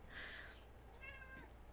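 A cat meows twice indoors, a drawn-out cry followed by a shorter one, fairly close but soft, with no talking over it.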